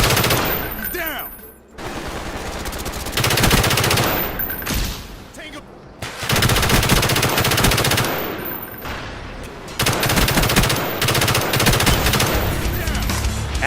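A light machine gun fires in a Call of Duty video game, with loud, sustained bursts of rapid automatic fire broken by a few brief pauses.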